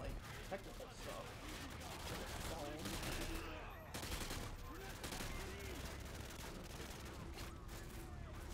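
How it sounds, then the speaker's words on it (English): Dense gunfire from the 2009 video game Call of Duty: Modern Warfare 2, a battle set in the West Wing of the White House, with continuous shots, bursts and explosions layered over game audio throughout. "I can't even see where I'm being shot from."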